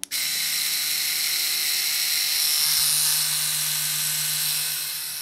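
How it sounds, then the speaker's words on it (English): Ink Claw Challenger rotary tattoo machine at 10 volts with kickstart, snapping on and then whirring in a steady, close, high buzz with a faint drop in pitch partway through, no voices over it. "10 volts, just to hear the sound with a kickstart."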